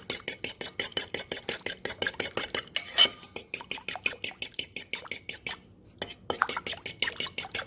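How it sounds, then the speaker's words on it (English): A whisk or fork beating eggs into curdled milk with lemon zest in a bowl, a rapid, even series of close clinking strokes against the bowl with a short pause near the end. "Beat in 2 eggs."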